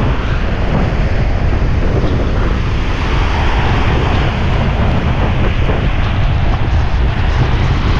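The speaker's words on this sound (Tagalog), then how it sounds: "Bigla na lang dumating ang alon, napakalakas." Loud, constant roar of heavy ocean surf during a storm at sea, with strong wind blasting the microphone, no talking heard.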